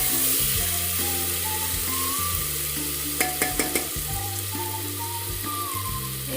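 Goat meat curry sizzles and fries in a pan as water is poured in, with a steady frying hiss, a few soft knocks midway and a low droning hum beneath, no talking.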